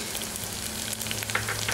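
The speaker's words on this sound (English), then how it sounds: "After frying these onions and green chilies for 1 minute, now into this add this crushed ginger and garlic to it." Onions and green chilies frying in a pan with crushed ginger and garlic, a steady close sizzle running without a break.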